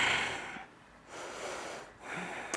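Slow, steady breaths held through an extended side angle yoga pose, each long airy inhale and exhale swelling and fading in a calm rhythm, close and fairly soft, with no talking.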